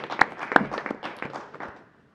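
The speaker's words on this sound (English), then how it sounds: "So again, round of applause for them." A short round of applause at a school board of education meeting, a brief burst of claps from a modest group that fades out within about two seconds.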